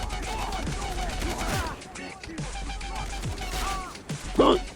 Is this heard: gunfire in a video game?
yes